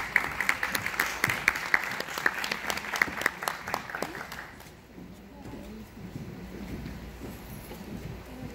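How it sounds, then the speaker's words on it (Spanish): An audience at a talk on the library as a curriculum development center claps in a brief spatter of applause that is fairly close and sharp. It fades after about four seconds into quiet room noise with faint voices. "Recibámosla con un aplauso."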